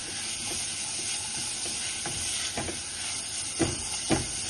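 Finely chopped onion sizzles in a hot pan, a steady hiss with a few louder stirring scrapes near the end, close and moderately quiet with no talk.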